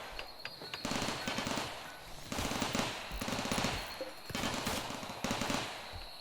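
Turrets in RimWorld firing in long, rapid automatic bursts with short gaps between them, at a moderate level and dense like a machine gun.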